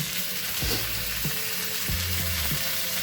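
Steady, loud sizzling of meat frying in hot oil for Arabian mandi, a continuous crackling hiss with a few faint clinks and knocks underneath.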